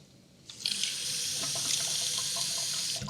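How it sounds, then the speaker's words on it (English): Warm water from a tap running into a bowl in a kitchen, a sudden onset of loud hissing splashing flow that stays steady for a few seconds, preceded by a brief quiet moment. "Let's get some warm water in this bowl."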